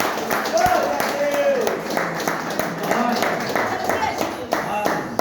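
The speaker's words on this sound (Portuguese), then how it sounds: "recebam de Deus com palmas para Jesus" A church congregation claps steadily together, a dense wash of hand claps filling the space with no talking on top.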